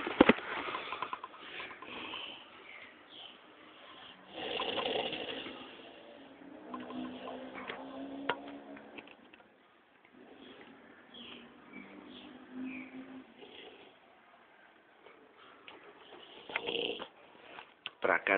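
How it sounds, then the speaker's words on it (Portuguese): Person snoring, a quiet recording of rough, rattling breaths that rise and fall in long cycles, with sniffs and a wheezy edge, while someone talks quietly over it. "Ó o ronco de novo, ó o ronco"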